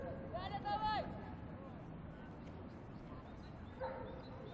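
A dog barks and yelps in a bursts at a 1990s Moscow show ring event, a quick run of high barks near the start and another short bark near the end over a constant crowd murmur.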